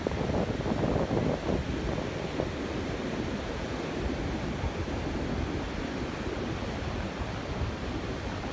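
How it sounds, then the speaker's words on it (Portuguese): Sea waves wash onto the beach at Praia Grande on a cold, windy day, a steady broadband roar of surf mixed with wind rumble that stays loud and continuous throughout. "vamos ver se você consegue ouvir bem o som do mar"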